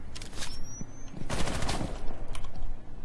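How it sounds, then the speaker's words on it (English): Rapid gunfire from the Rainbow Six Siege video game, a dense fusillade of bursts running throughout at steady loudness, with laughter and chatter from players around it. "That wasn't me shooting anyone."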